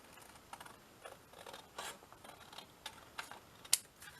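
Scissors snipping a ribbon closure off a handmade no-sew notebook, several faint quiet cuts and rustles in a quiet room, ending in one sharper snip.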